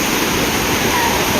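Waterfall at Maredumilli gives a steady, close, loud rushing roar of falling water, an unbroken wash of noise across the short stretch.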